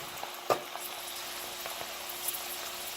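Potatoes deep frying in hot oil for fish and chips, a faint continuous bubbling sizzle with a few small pops and clinks, heard close with no talking.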